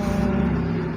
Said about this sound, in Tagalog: may dumaan pang jeep. Di lalo ng maingay.